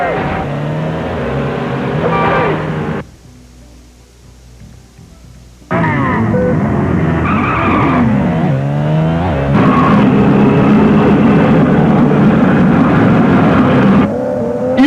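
Motorcycle racing in the video game Road Rash 3D: loud, continuous engine roar with revving and surging pitch, briefly dropping away before returning at full volume until the end.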